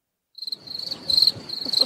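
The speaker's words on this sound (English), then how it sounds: "Just crickets." A crickets chirping sound effect, a steady high rhythmic trill of rapid pulses, loud and close after a brief silence.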